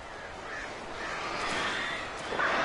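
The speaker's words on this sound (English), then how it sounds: "come here, stupid birds" Crows cawing in the horror video game Alan Wake Remastered, harsh calls blending into a dense, noisy game soundscape with no clear gaps.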